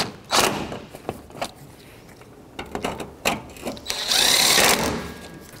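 Mounting bolts on the coolant reservoir of a 2006-2012 Toyota RAV4 are run down with a power tool, giving a few short close whirring bursts separated by clanks and thumps, with a longer buzzing run near the end.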